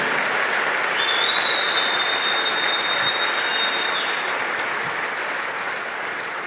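A church congregation applauds in a sustained, dense roar of clapping that fills the room and slowly fades a little toward the end, with a high whine heard briefly over it.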